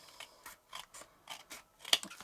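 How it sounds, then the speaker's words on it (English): Scissors snipping through paper while trimming a handmade craft tag, a series of short, crisp cuts in an irregular rhythm, close and fairly quiet, with no talking. "So I'm just going to use my scissors to cut this down"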